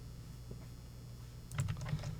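Quick burst of computer keyboard keystrokes, a short cluster of close clicks starting partway through after a quiet stretch of low room hum.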